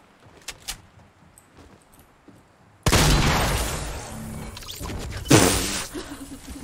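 Rocket explosions in the Fortnite battle royale game burst in loudly after a quiet stretch, a sustained roaring blast with a second sharp crash near the end and no talk over it.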